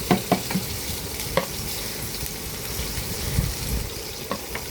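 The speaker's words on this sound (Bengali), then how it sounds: "পেঁয়াজ কুচিটাকে হালকা ব্রাউন করে ভেজে নেব।" Chopped onion sizzles in hot oil left from frying katla fish, a steady crackle broken by several sharp scrapes and knocks of a spatula stirring the pan.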